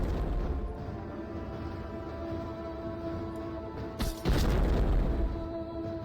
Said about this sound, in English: What, they're throwing bombs at me?